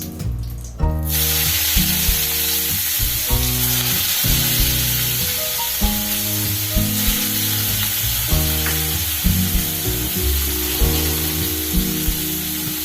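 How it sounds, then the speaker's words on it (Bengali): Prawns marinated in salt and turmeric fry in hot oil, giving a steady, close sizzle that starts suddenly after a brief noisy onset and runs throughout, with occasional spatter pops and clinks of utensils. "এবার এটা একে একে আমি ভেজে নেব।"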